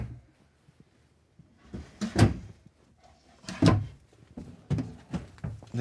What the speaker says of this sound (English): They have soft close on the drawers.